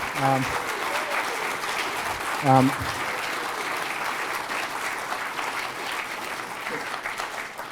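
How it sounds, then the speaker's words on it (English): Audience applause at a campaign launch speech, steady sustained clapping from a sizeable crowd with brief bursts of voices mixed in, holding evenly throughout. "Can we please have a round of applause?"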